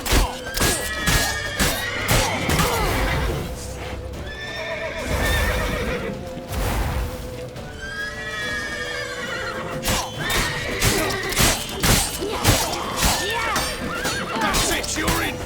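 Horses in a Witcher 3 game scene neigh loudly in repeated whinnies over clattering hoofbeats and thumps, with voices calling out amid the commotion.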